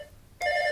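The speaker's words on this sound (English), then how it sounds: "have the phone ringing on your tape" A telephone bell starts ringing partway through, breaking a quiet background with a sudden, bright, sustained ring.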